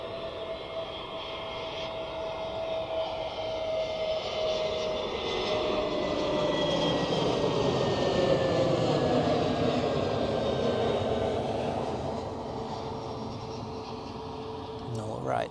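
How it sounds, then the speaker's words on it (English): A Boeing 777 on final approach at Zurich Airport, its jet engines a steady broad roar with a high descending whine, swelling toward the middle and easing off, heard close and continuous; a voice talks faintly over it. "we have the 777 on final as well"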